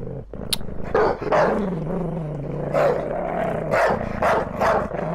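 Fierce dog chained to an iron apartment door on a stairwell, growling low and breaking into several loud, rough barks, close and alone with no talk.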